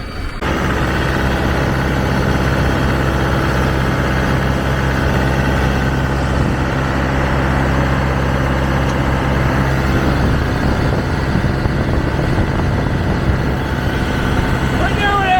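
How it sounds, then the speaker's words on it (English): Tractor engine on a sod farm in Illinois, running steadily with a low, continuous drone and rumble throughout, close by, with a voice speaking over it. "Haven't driven like a tractor in years."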